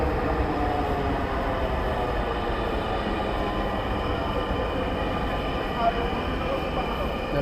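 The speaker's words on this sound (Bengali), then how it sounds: "এই হচ্ছে metro" A Dhaka metro rail train heard up close as a steady, loud rumble and rolling hum with a faint high whine, holding constant for several seconds with one brief knock.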